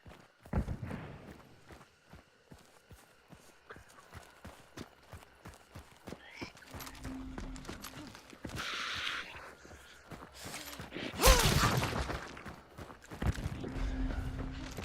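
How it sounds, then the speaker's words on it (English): Horse hooves in a survival video game, irregular clip-clopping steps near and then farther off, mixed with scattered thuds, rustles and other game sounds. "there was a horse ahead of me here"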